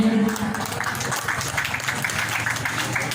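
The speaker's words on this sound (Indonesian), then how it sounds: "Beri aplaus yang meriah" A crowd claps at the grand opening ceremony of the Baitulmal Masjid KA.BAH mosque in Punggur, a steady round of applause filling a large space and holding at an even level throughout.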